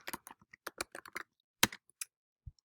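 Keys tapped on a computer keyboard while typing a last name into a document header, a quick close run of distinct light clicks, a short pause, then a few final taps, with no talking.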